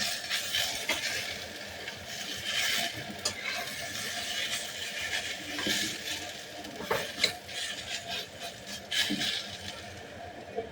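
Ash gourd frying with sugar in a pan, stirred now and then to keep the bottom from burning, with a steady low sizzle and intermittent scraping and clinks of a spoon against the pan, close and continuous.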